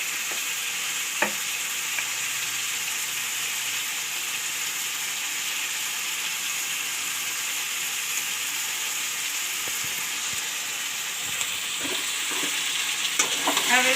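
Radish and potato sizzle steadily in a frying pan while being stirred, with a constant hiss and a few soft scrapes and taps of the utensil near the end.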